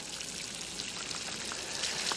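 Water pours onto thick drainage fabric and drains through it, a soft, steady splashing trickle with light droplet patter, fairly faint and close.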